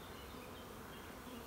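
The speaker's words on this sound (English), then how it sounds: "See all the bee that's out of the box." A honeybee swarm buzzes around a hive box, a dense, steady hum of many insects that stays faint and even throughout.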